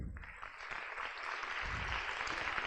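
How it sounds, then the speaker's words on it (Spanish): Applause from an audience fills the room, a steady dense patter of clapping that swells slightly and holds for a few seconds. "le damos un fuerte aplauso"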